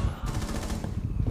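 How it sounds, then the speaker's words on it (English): Rapid automatic gunfire from the video game Rainbow Six, a quick string of close, punchy shots heard over a short moment of gameplay. "Gunfire, gunfire."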